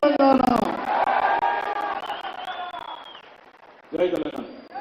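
A crowd at a Telangana political rally applauds and cheers around a speaker's amplified voice, loud at the start, easing off, then swelling again near the end.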